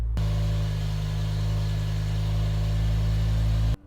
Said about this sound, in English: This is a stock exhaust, not modified, and honestly I don't want to modify it. This engine sounds beautiful already